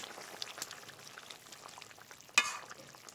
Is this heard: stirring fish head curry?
yes